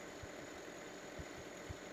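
A Zetor Proxima 8441 tractor engine in a video game mod idles faintly and steadily. It sputters a little, with soft, irregular low thumps under the hum.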